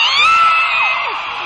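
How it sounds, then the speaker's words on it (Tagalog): Loud, high-pitched screaming and yelling from a live concert audience, a continuous shrill wall of voices that stays intense for the whole short moment. "Huwag mo kayo sumigaw."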